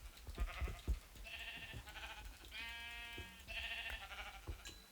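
Sheep bleat in several wavering calls close by, with quieter shuffling and bumps between the cries and no voices.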